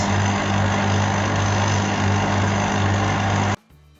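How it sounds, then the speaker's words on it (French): Stand mixer kneading bread dough at slow speed, a loud steady motor drone with a low hum that cuts off abruptly near the end. "Je vais mélanger maintenant à vitesse douce, à vitesse lente."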